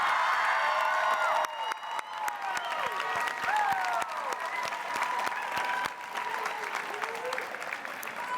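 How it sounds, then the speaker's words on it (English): Audience applause at a high school commencement ceremony, steady broadband clapping filling a large venue for about eight seconds, with crowd murmur, a few whoops and a voice speaking partly over it. "So let's give your parents and loved ones a nice round of applause."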